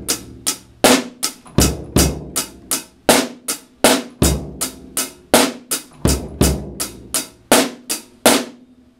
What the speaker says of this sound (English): I'll play it with the hi-hat so you can kind of hear the basic form of it.